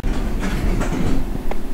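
A London Underground train in a simulator game starts to move, with a steady rumbling drone, wheel clatter and a faint rising squeal, loud and continuous with no talking.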